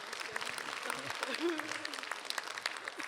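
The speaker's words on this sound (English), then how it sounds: "Give him a round of applause." Comic-Con convention panel audience applauding a fan's question: moderate crowd clapping mixed with voices and chatter, short and somewhat muffled.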